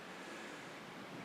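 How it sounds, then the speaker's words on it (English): Constant rushing water fills the clip, a steady broadband wash like a creek flowing nearby, with no voices. "You might be able to hear that creek flowing right now."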